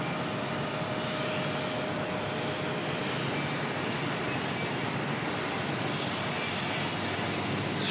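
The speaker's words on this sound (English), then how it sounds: "Extremely fast taxi going on here." An aircraft taxis fast at Auckland Airport, making a continuous, steady broadband engine roar that holds at an even loudness throughout, with no voices.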